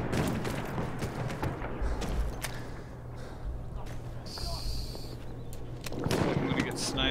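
Battlefield 1 gunfire crackles in a steady barrage of shots and distant blasts through an online match, with a voice talking over the combat.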